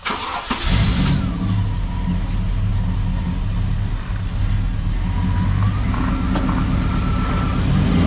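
Car engine cranking and catching, then settling into a steady, loud running drone close by that continues to the end.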